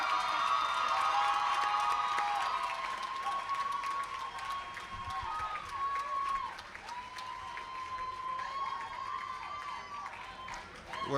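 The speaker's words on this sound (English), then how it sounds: "Let's have another huge round of applause for the graduating class of the MPLs." At a university graduate commencement ceremony, an audience gives a long, steady round of applause with scattered cheers, heard from a distance with some talk mixed in.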